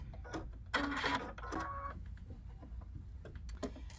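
A sewing machine stitches a seam on a chicken-shaped fabric pin cushion, giving a close, whirring mechanical run of about a second, a brief pause, then a shorter burst, with light handling clicks around it.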